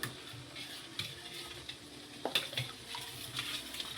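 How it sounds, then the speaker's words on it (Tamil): A spoon stirring pearl millet porridge with curd in a vessel, quiet and close, with soft sloshing and a few light clinks of metal against the pot. "இப்போ நல்லா கலக்கி விட்டுறலாம்."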